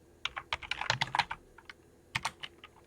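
Typing on a computer keyboard: quick clusters of sharp, close key clicks in irregular bursts with brief pauses between them, no voices.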